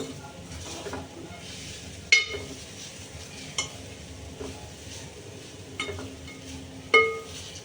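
Charoli nuts roasting in a little ghee in a pan for sweet potato kheer, giving a soft low sizzle broken by several sharp clinks and scrapes of a spoon stirring against the metal.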